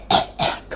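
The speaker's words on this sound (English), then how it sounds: "coughing my lungs out" Two to three harsh coughs from a person with asthma, close and loud, each burst short with a brief gap, the last one softer and clipped.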